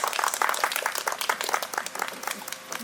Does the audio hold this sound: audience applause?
yes